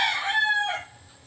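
A Kelso gamecock rooster crows once, close and loud, a short strained cock-a-doodle call that breaks off after under a second.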